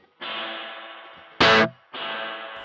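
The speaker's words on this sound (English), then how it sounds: "you can hear a delay before the reverb kicks in" A Boss Katana amp with spring reverb set to a 500 ms pre-delay: a sustained, effected guitar tone, a short loud burst, a brief gap, then the washy tone swelling back in. No voices.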